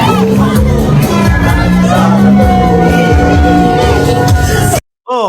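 Large crowd at a political rally in the Philippines shouting and chanting together, loud and continuous with whoops and cheers, cutting off abruptly near the end.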